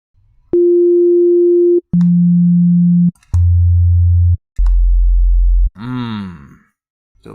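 An Ableton Operator synthesizer plays four loud, pure held tones, each stepping lower in pitch with short gaps between, followed by a brief wobbling, modulated burst.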